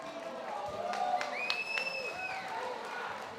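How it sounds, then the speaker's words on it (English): A crowd at a combat-sports fight event cheers and applauds the two fighters, a blurred mix of clapping and shouts with a few whistle-like tones rising above it. "A round of applause for these warriors."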